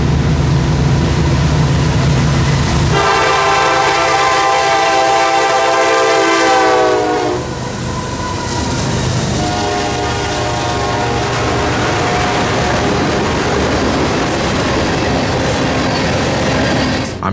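A freight train led by a Ferromex locomotive rolls past on a dirt road crossing, its loud horn blaring in a long blast over the heavy rumble and screech of the cars, then sounding again more briefly.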